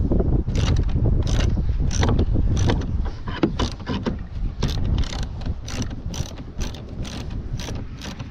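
Loud, rapid clicking of a 10mm socket wrench ratchet while loosening fasteners on Polaris Ranger LED tail lights, a steady run of mechanical clicks with several bursts across the stretch.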